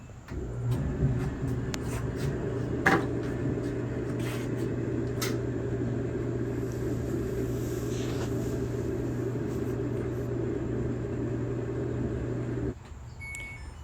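A Samsung clothes dryer, with newly replaced drum rollers, runs with an even, droning hum and faint ticks, steady throughout before cutting out near the end.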